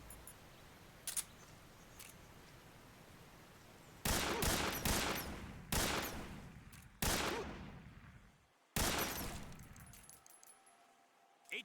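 Bursts of gunfire sound in Metal Gear Solid 3: Snake Eater, with several loud rapid volleys separated by short pauses and a few faint single shots earlier.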